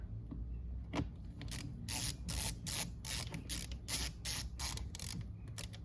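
A screw is driven into plastic center dash trim on a 2006–2011 8th-generation Honda Civic LX, giving a quick series of close, dry ratcheting clicks and squeaky turns in rapid bursts, with no talking.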